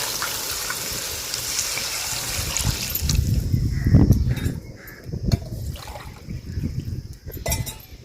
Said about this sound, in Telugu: చూడండి, నీళ్ళు అయితే వేస్తున్నాను.